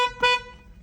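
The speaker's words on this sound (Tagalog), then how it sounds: "Ayan yung busina." A mini electric car's horn gives one short, loud, bright honk, close by, which rings out briefly and fades.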